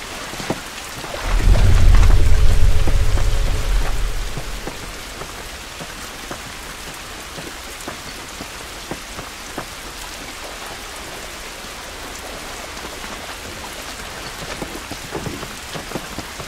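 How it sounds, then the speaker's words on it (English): Steady heavy rain pours outside in The Last of Us, a dense hiss that goes on throughout, with a loud low rumble of thunder early on that fades after a couple of seconds. "This rain ain't gonna do us any good."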